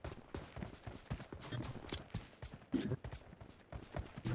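AK rifle gunfire in an online shooter video game crackles in faint, uneven bursts of sharp shots, some distant, spread across the stretch at low volume.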